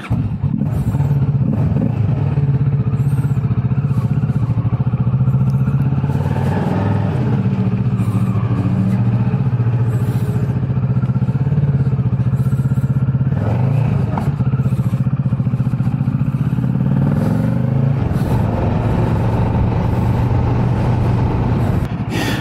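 A motorcycle ridden steadily, a loud continuous engine drone with shifting pitch as it speeds up and slows, some rattle and wind noise, no talk.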